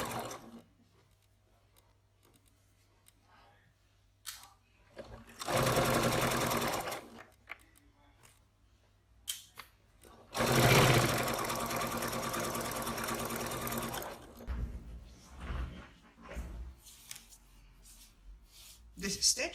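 Domestic sewing machine stitching the corner of a fabric pocket, running in two long bursts and several short ones, separated by quiet pauses and small handling clicks.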